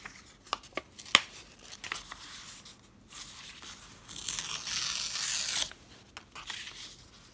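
Washi tape is handled and torn during a paper craft journaling session: a few sharp taps and crinkles, then a longer raspy tearing stretch, followed by lighter rustling, all close and fairly quiet.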